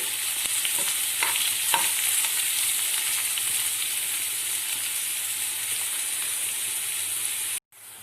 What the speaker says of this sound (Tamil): வெங்காயம் நல்லா பொன்னிறம் வர வரைக்கும் வதக்கிக்கலாம்